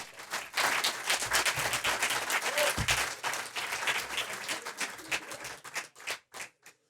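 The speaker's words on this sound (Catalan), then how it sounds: "Ara sí, un merescut aplaudiment per l'Esteban." An audience applauds a speaker at a tribute event for workers, with dense, lively clapping that holds strong for several seconds before thinning out into a few scattered, isolated claps at the end.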